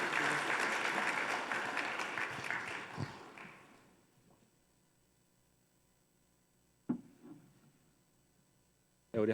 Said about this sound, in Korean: 여러분 큰 박수로 여러분 환영해 주시기 바랍니다.